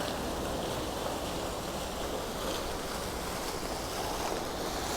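Water fountain in the town square of Salò, Italy, in the evening, a steady, close, full splashing rush of falling water that continues without a break.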